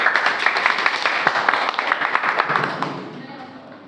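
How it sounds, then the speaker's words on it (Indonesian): Clapping from a classroom audience after a group presentation, a dense patter of many hands for a few seconds that thins and fades out toward the end. "Beri tepuk tangan."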